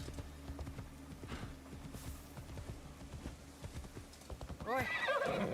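A horse in Assassin's Creed Shadows clip-clops along with a steady run of hoofbeats. It then gives a sharp neigh and whinny near the end, all fairly quiet and close.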